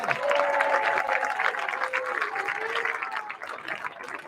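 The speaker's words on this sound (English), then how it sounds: "Can we give one big round of applause for girls tennis?" Crowd at a high school football game applauding the girls tennis team, a continuous wash of clapping with scattered voices and cheers underneath, steady in level and slightly distant, with faint tonal sounds drifting through.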